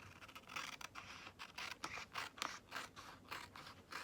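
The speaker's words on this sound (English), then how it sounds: "I only want to cut just enough" Scissors cut material for a zipper pull button, making quiet, close snips and scratchy scrapes in a loose, irregular rhythm.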